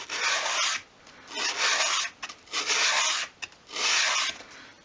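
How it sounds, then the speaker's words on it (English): A small handheld sanding block rasps along the edge of a wooden 1/12 scale miniature garden shed in close, rhythmic strokes, about four long passes with brief pauses between them. "then you can just sand along the opening like that"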